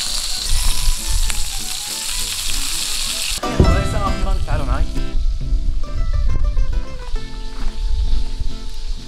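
Butter and garlic sizzling loudly with steak in a hot pan, a dense crackling fry that shifts to sharper spitting and popping as the butter goes in, with a person talking over it.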